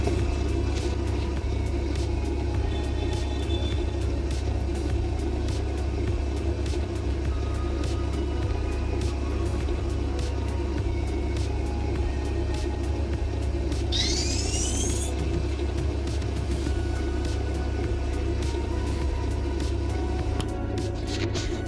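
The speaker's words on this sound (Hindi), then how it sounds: "आउट ऑफ थिन एयर एक गाड़ी आती है जो कि ग्राउंड पावर यूनिट है" A ground power unit vehicle drives up beside an airliner in Real Flight Simulator, a steady loud engine rumble and whir running throughout with a brief rising whine partway through.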